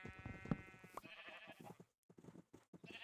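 Sheep bleat in the Minecraft video game: a couple of short, nasal blats near the start, followed by quieter shuffling game noises and a brief silence.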